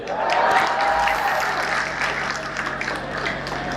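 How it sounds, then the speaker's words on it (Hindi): Audience applauding at a Hindi comedy poetry gathering, a dense steady wash of clapping from a large crowd that fills the whole stretch and eases slightly toward the end. "ताली तो पूरा सदन इस बात पे बजाएगा"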